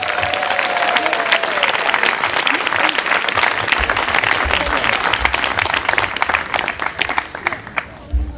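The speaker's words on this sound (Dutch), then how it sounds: "nog een keer applaus voor ons Paralympisch kampioen" Audience applause at a celebration honouring Paralympic champion Sanne Voets: dense, sustained clapping from a sizeable crowd lasting throughout, with a few voices mixed in, tapering slightly near the end.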